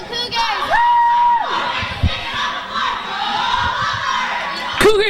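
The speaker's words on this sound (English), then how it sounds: "Cougars have done their first cheer of the game." A high school volleyball crowd in a gym bursts into a loud cheer for the Cougars, with shouting and whooping voices rising and falling under a noisy hall ambience, then another yell near the end.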